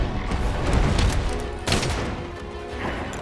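Gunfire-like bursts from sticky ammo fired in the Monster Hunter World video game, a dense, busy barrage of impacts with a loud crack partway through, mixed with game noise.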